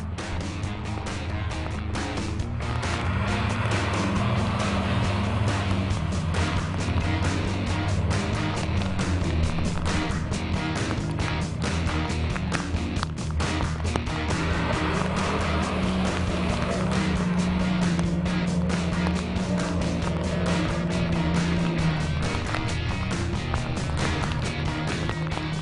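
A 4WD truck drives forward through a deep water crossing on a rugged Tasmanian track, its engine droning steadily for a long stretch while water churns and rushes around it, close and continuous.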